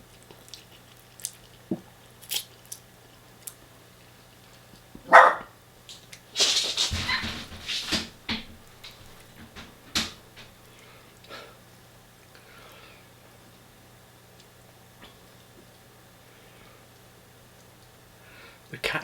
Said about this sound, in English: The cat is bullying the dog because the cat's bigger than the dog.